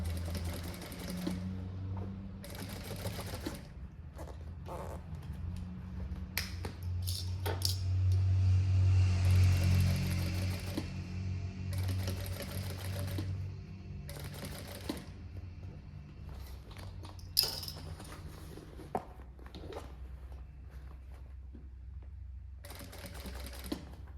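A sewing machine topstitching a synthetic leather panel on a tote bag runs in steady whirring stretches broken by short pauses and a few sharp clicks. It sounds close and moderately quiet, with no talking.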